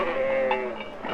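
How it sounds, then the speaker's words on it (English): A sheep bleats once in a short, wavering, nasal cry that sounds fairly close and stands alone without any talk. "Nothing, that is, except the bleating of sheep."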